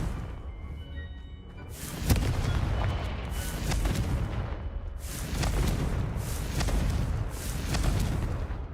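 Fire spell explosions from Confringo in the video game Hogwarts Legacy, a string of loud booming blasts at roughly regular intervals over a steady rumbling game background.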